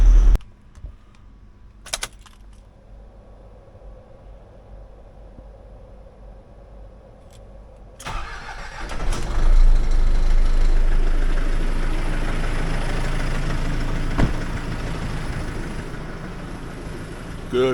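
A work van nicknamed the Grafter, used for log deliveries around a yard, idles quietly before its engine catches at about eight seconds and settles into a loud, steady low rumble as it warms up.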